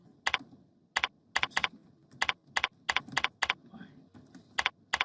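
Someone types code on a computer keyboard, with close, crisp key clicks arriving in quick clusters and short pauses between them, and no voice over them.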